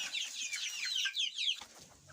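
Chickens and young chicks cluck and peep close by in a poultry shed, a busy overlapping chatter of high chirps and short clucks with no talk.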